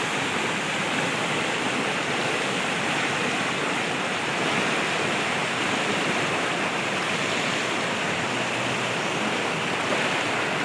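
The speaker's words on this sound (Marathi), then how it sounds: "कसलं वेगानं पाणी वाहतंय पूर्ण एकदम" Loud, steady rush of fast-flowing stream water during heavy monsoon rain, a dense continuous roar like a stream running hard over rocks, filling the whole clip with no voices.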